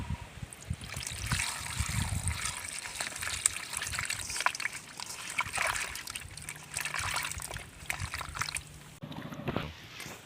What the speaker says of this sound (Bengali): এবার আমি পরিষ্কার জল দিয়ে ধুয়ে নিচ্ছি।